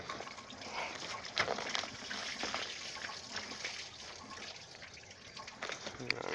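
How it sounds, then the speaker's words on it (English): Coolant water drains from a Chevy truck radiator during a flush in a continuous, fairly faint trickle and splash that keeps a steady level throughout. "Make sure it's nice and drained again."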